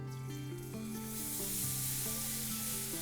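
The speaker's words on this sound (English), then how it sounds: "before the flour starts burning, we're going to add some chicken stock to this." Chicken stock poured into a hot pan of browned flour, giving a steady sizzling hiss that swells and spreads over a few seconds, with sustained tonal hum beneath.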